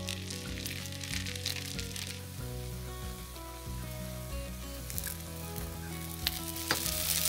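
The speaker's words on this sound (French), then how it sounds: "il ne reste plus qu'à mettre les samosas dans une poêle bien beurrée" Samosas frying in a well-buttered pan, a steady close sizzle with crackles throughout, background musical tones running underneath.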